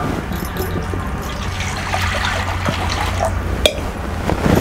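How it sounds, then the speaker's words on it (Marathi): Water poured over raw chicken legs while they are washed in a bowl, a steady splashing trickle with a few louder drips and sloshes, close and continuous with no talking. "परत पाणी टाकूया"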